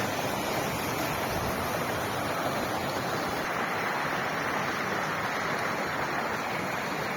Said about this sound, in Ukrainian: Такий тут струмочок тече по дорозі до озера Семівір.